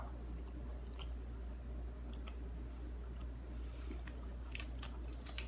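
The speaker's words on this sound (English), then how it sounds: "I chewed more gum than people chew tobacco in the South." Gum being chewed close up, with soft, irregular wet clicks and smacks over a steady low hum, growing a little busier toward the end.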